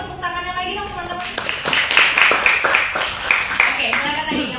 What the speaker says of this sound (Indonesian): Saya mau tepuk tangannya lagi dong teman-teman.